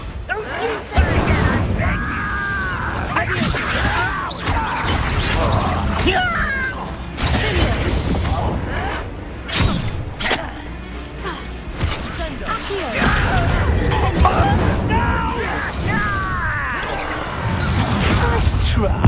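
Blasting Confringo spell explosions burst out during a Hogwarts Legacy wizard duel, loud crashing impacts and whooshes repeating across the fight while character voices talk and shout over the combat.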